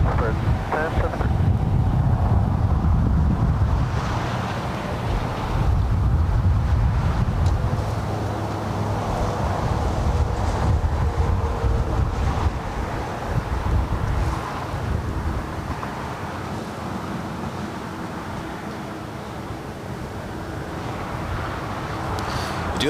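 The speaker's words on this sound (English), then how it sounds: "The wind's blowing me around" Strong wind buffets the microphone at an outdoor plane-spotting spot near LAX, a loud continuous low rumble lasting the whole stretch and easing slightly toward the end.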